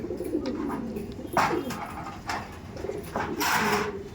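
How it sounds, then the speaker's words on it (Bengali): Flying pigeons, including a female, coo softly at a pigeon sale in Thakurpukur, with low repeated coos and a few soft rustles and knocks nearby. "এটা আছে মাদি পায়রা।"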